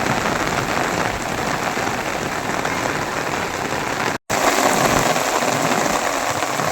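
Heavy monsoon rain pours down across Saurashtra in Gujarat, a steady, dense roar of falling water that fills the scene without pause except for a momentary dropout midway, with no voices.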